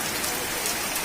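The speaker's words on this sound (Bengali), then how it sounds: "কেমন বৃষ্টি হচ্ছে" Steady rain falls on a rainy day, heard from a home kitchen as a dense, even hiss of drops on surfaces, loud and continuous with no voices.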